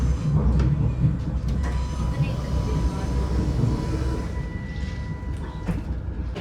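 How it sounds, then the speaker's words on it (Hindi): A train at London Euston station, a steady low rumble of rail noise and station ambience carrying through, with faint tonal hums and people talking now and then. "ह्यूस्टन स्टेशन से हमारी रवानगी है टू क्रू और क्रू से फिर हम मैनचेस्टर जाएंगे।"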